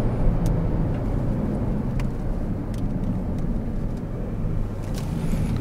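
Kia Stinger GT with quad exhaust pipes driven at full power down a track straight in Mallorca, a steady deep engine drone heard from inside the car, loud and continuous.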